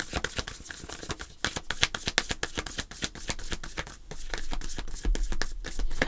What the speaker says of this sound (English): So we're going to go ahead and shuffle the cards